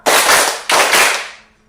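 A group of people clap together in a rhythmic pattern during a school session on positive culture, heard as two sharp, loud, unified bursts that ring out and decay in a reverberant room.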